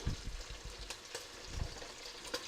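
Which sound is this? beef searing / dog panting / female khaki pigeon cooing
beef searing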